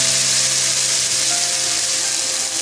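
Ghevar batter is poured into hot ghee and sizzles loudly and steadily without a break, a dense, close frying hiss with no voices.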